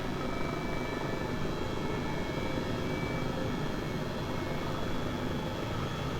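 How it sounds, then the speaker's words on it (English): Steady, dense rotor and engine roar of an Airbus H135 helicopter flying low in a flight simulator game, continuous and fairly loud, with no voices. "Oh, look at me, I'm flying a helicopter."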